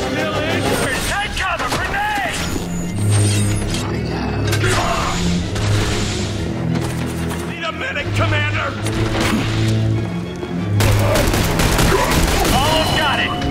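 Heavy video-game gunfire in The Bureau: XCOM Declassified, with repeated sharp shots and booming bursts over a rumbling battle bed, while players talk excitedly throughout.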